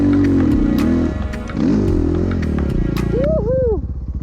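A dirt bike motorcycle rides the Ta Nang trekking route, its engine loud and close with a rough steady drone, brief dips and rising revs near the end.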